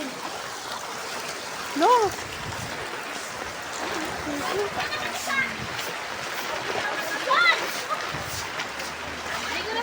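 Floodwater from Typhoon Enteng streams down a flooded street like a river, a continuous watery rush with occasional splashes, while people talk nearby and birds chirp faintly.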